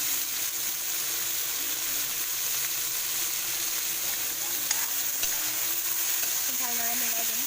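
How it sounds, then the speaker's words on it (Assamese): Ginger garlic paste fries in a pan with a loud, continuous close-up sizzle that holds steady throughout, with faint clinks partway through. "এতিয়া ইয়াত দিম আদা নহৰু পেষ্টখিনি"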